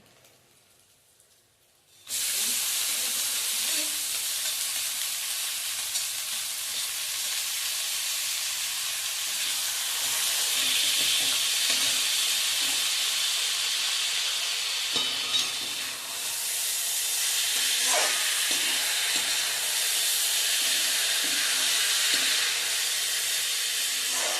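Soaked broken rice (kanya) stirred in a pan with turmeric and asafoetida for a traditional Marathi one-dish meal, giving a steady loud hiss and sizzle with scraping stirs, starting abruptly after two quiet seconds and running on without speech.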